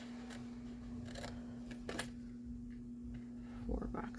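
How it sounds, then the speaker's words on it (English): Scissors snipping through paper while cutting out boxes for a shadow box craft, a few soft, close cuts over a steady electrical hum in a quiet room. "I'm going to cut up 4 boxes here."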